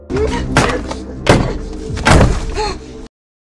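A locked wooden cabin door is shoved and rattled hard in a film scene, several loud heavy thuds and bangs in quick succession, close and forceful, ending abruptly in silence.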